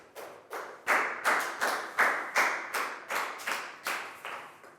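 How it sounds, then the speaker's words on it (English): A class of Year 4 pupils claps together in a steady, even rhythm, about ten sharp, fairly close claps spaced roughly half a second apart, with no voices over them. "a big round of applause"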